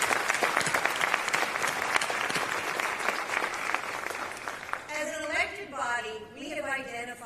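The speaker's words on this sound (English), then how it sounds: "Let's give them all a big round of applause." Loud, sustained applause from a large crowd at Greensboro's 2024 State of the City address fills the first five seconds, then fades as a voice begins speaking over the tail of the clapping.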